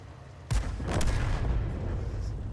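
A Grille self-propelled artillery gun fires in a tank video game, one sudden loud blast whose heavy boom rolls on and decays over the next two seconds.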